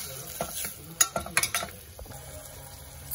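Chopped onion with gram flour (besan) sautéed in a pan while being stirred for matki misal, giving soft sizzling with several sharp scraping stir strokes close by.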